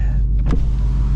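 Power windows on a 2024 Mustang GT with a 6-speed manual lower in a brief electric whir, heard over the car's steady low engine hum.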